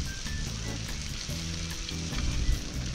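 Sausages sizzle and crackle steadily in hot oil in a pan at a camp cookout on a bike trip, a close, continuous frying hiss with small pops.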